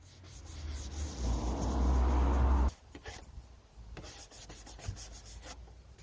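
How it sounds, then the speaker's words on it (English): Scrubbing stripped stain and varnish off an old wooden desk after oven cleaner has been left on briefly: a steady, close abrasive rubbing that swells for a couple of seconds, then stops, leaving quieter scattered scrapes and handling sounds. "I was able to scrub the stain or the varnish right off."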